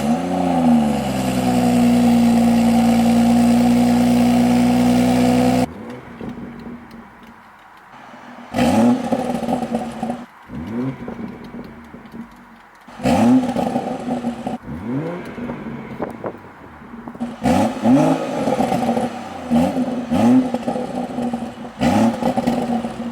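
A BMW M140i with the B58 engine and an M Performance exhaust with titanium tips fires up with a loud, deep cold-start roar that settles, then a series of sharp throttle blips rise and fall over a burbling idle, heard up close.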